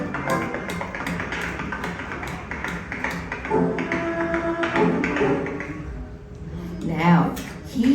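Tap dancing on a stage in wooden-soled shoes, with quick, sharp knocking taps in a steady flurry over busy hall ambience and background music.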